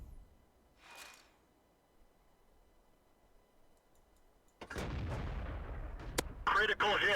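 The LeFh 18B2 artillery gun in World of Tanks, a faint early whoosh, then a loud deep firing blast that rumbles on, followed by sharp clicks and a bright metallic burst, with a voice talking.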